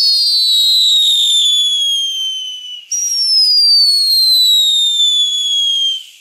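Two Aldi fireworks whistle at the same time, loud, piercing tones sliding slowly downward, one cutting off briefly before a second shrill whistle resumes and fades out after about six seconds.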